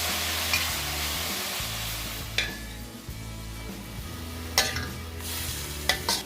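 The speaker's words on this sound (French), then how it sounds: "Ajoute du sel, selon goût et saute-li pendant 10 minutes." Grated cabbage, bret and carrots are sautéed with salt in a pan for Mauritian veg chow mein, giving a steady sizzle broken by a few sharp stirring scrapes of a utensil against the pan, close and with no talk.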